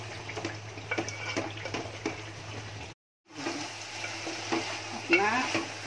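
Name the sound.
potatoes with spinach cooking in a pan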